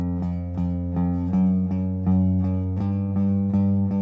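Electric guitar played with a steady alternate-picking pattern that moves across the strings, each note cleanly attacked in an even, continuous rhythm, with no talking.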